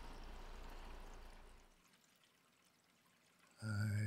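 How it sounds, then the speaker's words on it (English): Water drains from a bathroom sink with a soft, steady trickling rush that fades to a quiet gurgle, then a sudden louder tonal sound cuts in at the end. "And here, we drain some of the water."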